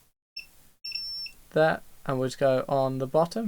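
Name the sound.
multimeter continuity beep probing shorted capacitor on Nintendo Switch OLED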